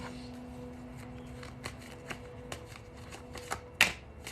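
Tarot cards being shuffled and drawn from a deck, soft rhythmic flicks and riffles over a faint steady hum, ending in one sharper card snap, quiet and close.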